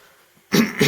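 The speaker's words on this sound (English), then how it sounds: "Just need to clear your throat." A single person clearing their throat, a short, loud, rough burst after a near-silent moment, close to the microphone.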